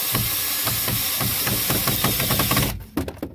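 A drill whirs steadily and loudly, with rapid rhythmic knocks as the bit bites at an angle into curved wood of a pallet bench, then cuts off abruptly followed by a few clunks.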